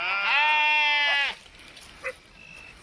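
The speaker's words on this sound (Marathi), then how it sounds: "पाहू शकता आपल्या मेंढ्या बघा" A single long, wavering bleat from a sheep sounds close and clear at evening in a flock, then fades to quiet with a couple of faint distant calls.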